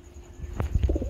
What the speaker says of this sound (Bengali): কবুতর দেখতে পাচ্ছেন কতটা অ্যাক্টিভিটি থাকলে, কতটা সুস্থ সবল থাকলে এই ধরনের ডাকাডাকি করতে পারে।